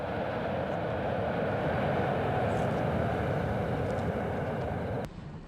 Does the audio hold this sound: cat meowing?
no